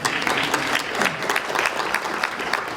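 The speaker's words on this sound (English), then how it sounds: "How about one more round of applause for Miss Jeannie in the dress shop?" Audience applause at a school district board meeting, a steady wash of many hands clapping that fills the whole stretch without a break, with no voices standing out.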